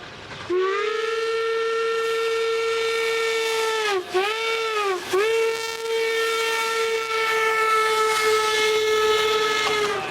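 An oil-burning steam locomotive on the Cumbres and Toltec railroad in the Rocky Mountains blows its whistle, one long, loud, steady chime that dips twice briefly midway before sounding on to the end.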